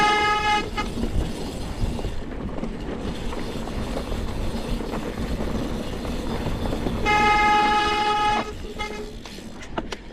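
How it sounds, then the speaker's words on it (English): High-pitched squealing bicycle brakes on a mountain bike during a stage race in Tanzania, ringing in two strong bursts, one at the start and a longer one near the end, over steady rolling and wind noise. "Oh, brakes sound great"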